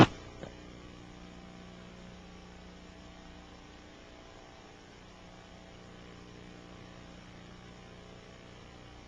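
Military helicopter, an FBI or Army evacuation aircraft, heard as a steady low engine and rotor drone that stays fairly constant throughout, with a brief thump near the start and no talk.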